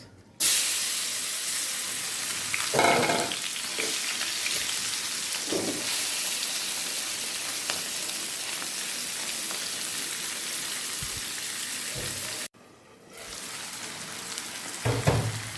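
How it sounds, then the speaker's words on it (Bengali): Puti fish, rubbed with spice powders, frying in hot oil: a steady loud sizzle that runs almost unbroken, with a few louder spits and crackles and a brief drop near the end before the frying resumes. "তেলটা এখন আমার গরম হয়ে গেছে, দিয়ে দেবো মাছ।"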